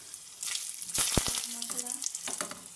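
Whole cumin and dried red chillies crackle and hiss loudly in hot oil in a pan, a dense frying sizzle with a burst of sharp pops and clatter partway through.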